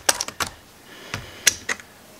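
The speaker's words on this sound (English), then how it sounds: "push it the whole keyboard upwards" A Lenovo X230 laptop keyboard is pushed and pried off its frame, giving a few sharp plastic clicks and snaps spaced irregularly over a couple of seconds, close and fairly quiet.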